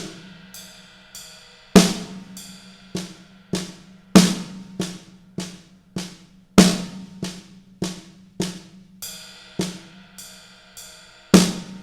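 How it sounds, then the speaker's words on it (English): Gospel drum chop built from paradiddles, the right hand alternating between ride cymbal and snare drum: a brisk, even stream of cymbal pings and sharp snare cracks with regular heavier accents, played close and solo without talk. "And with our right hand, we're going to alternate between the ride and the snare drum."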